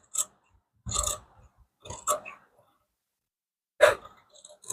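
Close scissors cut through blouse fabric in four or five short separate snipping and rasping strokes, with silent gaps between them.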